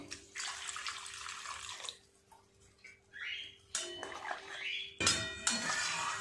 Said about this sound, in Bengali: জল দিয়ে দেব, মশলার জার ধোয়া জলটা দেব, আরও অল্প একটু জল দিয়ে দেব